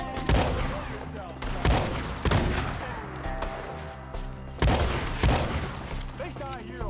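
Gunfights in Red Dead Redemption 2 ring out as loud, spaced gunshots and short volleys echoing across open ground, with characters shouting in between.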